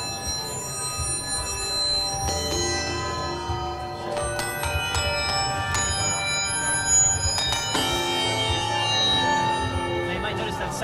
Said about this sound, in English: Now you might notice that sounds a lot like a sample of a bell. That's actually pure synthesis.